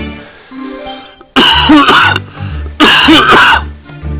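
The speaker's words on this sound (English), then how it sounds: "Sorry about the coughing." A man gives two loud, harsh coughing fits close to the microphone, mixed with throat clearing, while a casino slot machine game plays quiet tones underneath.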